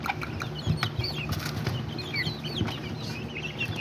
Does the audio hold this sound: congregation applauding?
no